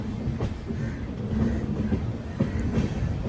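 Steady rumble and rhythmic clatter of the Tirumala Express passenger train moving from Visakhapatnam to Kadapa, heard from a general coach, continuous throughout with no voices.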